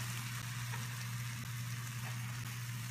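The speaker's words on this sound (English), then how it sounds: "Nice sizzle." Constant loud frying sizzle from bread and cheese in a pan for grilled cheese bruschetta, with a steady low hum underneath.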